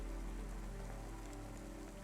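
Steady rain patters in the rainy city of the video game Cloudpunk, a constant dense hiss of drops on hard surfaces, moderately quiet with no voices.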